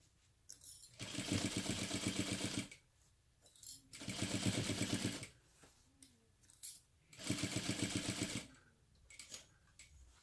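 A sewing machine stitches a crossbody bag in three steady bursts of rapid, rhythmic needle chatter, each a couple of seconds long, separated by quiet pauses with small clicks and shuffles, close up with no talking.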